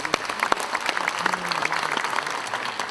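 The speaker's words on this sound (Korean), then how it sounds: "박수로 맞아주시기 바랍니다." Audience applause at a Korean War 73rd anniversary ceremony in Cheonan, a steady patter of hands clapping through the hall with a few sharper claps standing out and faint voices underneath.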